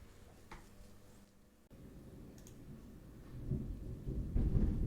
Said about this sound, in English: as the thunder booms in the background